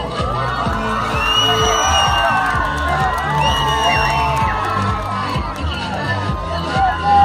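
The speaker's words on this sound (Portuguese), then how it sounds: "E a gente vai aplaudindo." A festival crowd at a coffee festival pageant cheers, whoops and claps as contestants walk the stage, with loud shouts and children's voices layered over steady applause and some amplified talk.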